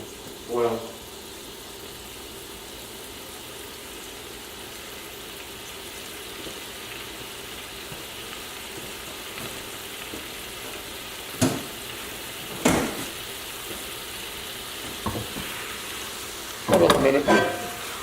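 Mirin glaze cooking in a hot pan for mirin-glazed chicken, giving a steady, even sizzle throughout, with a few brief clanks and stirs and a voice near the end.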